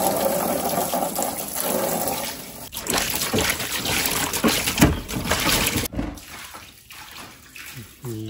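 Water runs and splashes steadily while a pet room floor is hosed and washed down into a simple floor drain, close and fairly loud, with a few gurgles and trickles toward the end.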